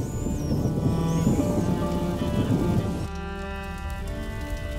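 Steady rain pours in the video game A Plague Tale: Innocence, a dense even hiss that fills the scene, with a faint musical tone layered over it and the texture changing partway through.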